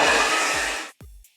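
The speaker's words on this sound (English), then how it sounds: "if you just set it up like this where it blows hot air in the center" A hair dryer blows hot air into a truck tail light to dry it, a loud steady whoosh that cuts off abruptly near the end, followed by brief clunks.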